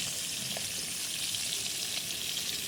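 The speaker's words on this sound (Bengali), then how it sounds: "তো মাছটা ভাজা হোক" Fish fries in a pan outdoors in the open air, giving a steady, even hiss and sizzle with faint crackles throughout and no voices.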